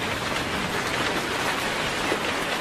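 Heavy rain pours down at the Hong Kong Ngong Ping 360 cable car construction site, a dense, steady roar of downpour with no let-up and no voices.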